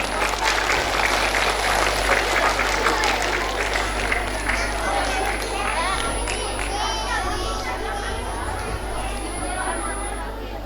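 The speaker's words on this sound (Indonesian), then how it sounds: "Mari kita berikan aplaus yang meriah sekali lagi." Audience applause at a primary school graduation after a Ronggeng Pasir dance performance, sustained clapping from a crowd with children chattering and calling out.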